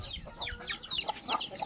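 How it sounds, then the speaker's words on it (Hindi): Pure desi Aseel roosters on a free-range poultry farm give quick, chirpy clucking calls, several birds overlapping close by in a short burst. "प्योर देसी मुर्गे, प्योर देसी मुर्गे एकदम असील"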